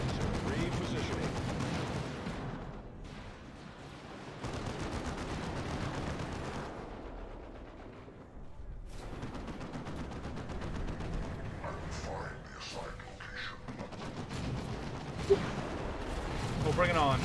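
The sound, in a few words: deployed turrets firing in a video game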